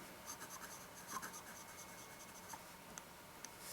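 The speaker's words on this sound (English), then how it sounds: "you can certainly hear that feedback. It almost sings to you when you're writing with it" A 1930s Mentmore Diploma fountain pen with an osmium iridium nib scratches faintly across paper, a soft close continuous rasp with small ticks as strokes begin and end.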